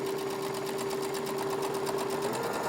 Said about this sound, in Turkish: Dönerek diğer uca kadar makine dikişimi tamamlıyorum